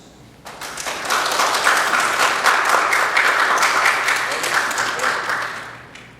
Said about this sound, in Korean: 박수 영광 돌리겠습니다.